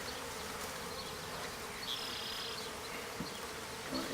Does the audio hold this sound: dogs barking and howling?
no